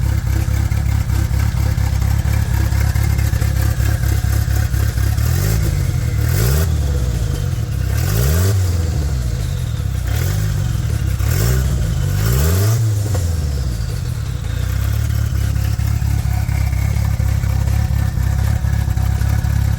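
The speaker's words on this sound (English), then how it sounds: "This thing does sound like it's got a cam in it until it gets warmed up" A 1984 Mercury Capri RS turbo engine idles roughly and loudly up close, lopey as if cammed while cold, with several quick revs swelling and falling back in a repeating rhythm and no talk over it.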